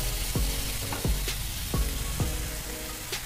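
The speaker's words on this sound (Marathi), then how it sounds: "आपण मिक्स करून तो आपल्याला चांगला परतून घ्यायचा आहे." Onion sautés in a pan for kanda poha under a constant dense sizzle, with a few soft, evenly spaced scraping strokes from stirring, close by with no voices.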